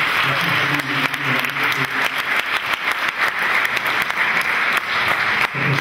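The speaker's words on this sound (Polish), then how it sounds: "myślę, że brawa się należą" A concert audience at the 6th Lubuskie Music Festival breaks into dense, continuous applause, many hands clapping at an even loudness for several seconds with no talking on top.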